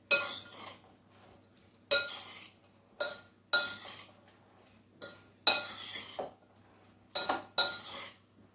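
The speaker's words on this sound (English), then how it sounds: "And we'll just mix that all up together." A spoon repeatedly scrapes and clinks against a bowl as peach pie filling is mixed with honey, in short distinct strokes separated by brief quiet gaps.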